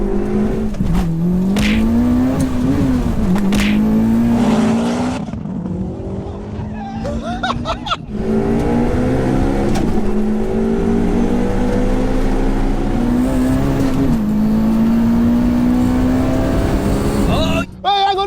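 Two 700 bhp cars, a Mitsubishi Evo and a Subaru Impreza, roar off the line together, engines revving loud and rising through gears with some tire noise, while people shout and cheer over them.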